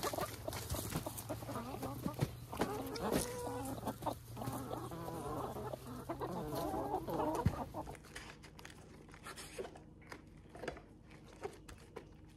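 Several chickens cluck close by in irregular bursts over a low background hum that drops away partway through, leaving the clucking quieter and sparser.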